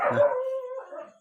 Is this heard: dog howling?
yes